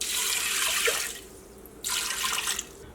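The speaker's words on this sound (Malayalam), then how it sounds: "ഇതിലേക്ക് വെള്ളം ചേർക്കാം." Water runs from a tap into a pressure cooker holding dried peas, a bright rushing stream that stops briefly and then starts again, close and clear.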